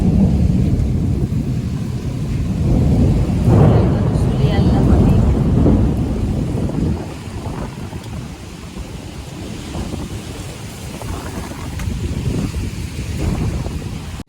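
A heavy thunderstorm with rain batters a rural Bengali home, with deep rolling thunder and gusting wind rumbling loudly and continuously, swelling in the first half, then easing slightly.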